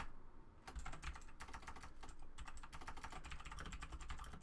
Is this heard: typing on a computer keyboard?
yes